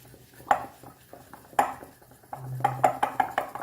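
A spoon clinks and scrapes against a bowl while mixing tandoori chicken marinade with kasuri methi and masala, giving sharp metallic taps spaced out at first and then a quicker cluster of clinks, all close and fairly quiet.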